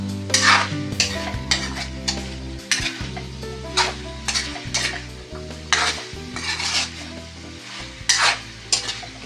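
Mixed vegetables sautéing in a pan, with a spatula repeatedly scraping and stirring in bursts over a continuous close sizzle and occasional metallic clinks from utensils.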